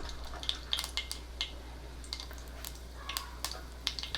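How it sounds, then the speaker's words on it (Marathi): Mustard seeds crackling in two or three spoonfuls of hot oil while making horse gram pithla, with faint, scattered sharp pops and sizzles spread irregularly across a quiet background. "मोहरी तडतडायला लागली"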